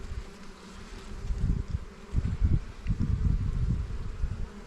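Honey bees buzz in a steady, dense drone during an early spring hive inspection in an apiary, rising and swelling as the swarm stirs close to the microphone, with faint wind-like rustle beneath.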